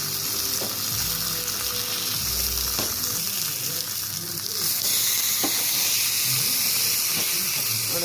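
Pepper fish pieces roast in an oily pan with a steady, close sizzle and hiss throughout, broken by occasional clinks of a spatula turning the fish, and no voices.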